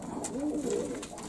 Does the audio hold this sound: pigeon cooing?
yes